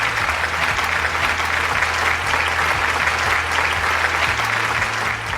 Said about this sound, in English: Big round of applause for Efren